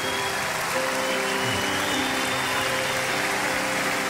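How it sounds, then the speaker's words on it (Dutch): Broad, steady applause fills a large concert hall at a show in Ahoy, a dense wash of clapping with faint tonal music beneath. "Geef ze een applaus, dames en heren."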